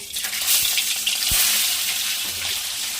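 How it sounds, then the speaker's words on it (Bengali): Two pieces of pabda fish, rubbed with salt and turmeric, fry in hot oil in a kadai with a loud, close, continuous sizzle and occasional soft knocks, with no talk. "এবার আমি মাছ দুটো ভেজে নেব।"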